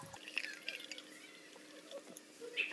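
Freshly made orange juice pours from a juicer through its built-in strainer, heard as a faint, quiet trickle with scattered drips and splashes, no talk.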